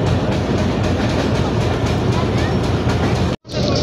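The 40 Down Jaffar Express passenger train rolls into Attock railway station with a loud, continuous rumble and clatter of wheels and carriages close by, cutting off abruptly near the end.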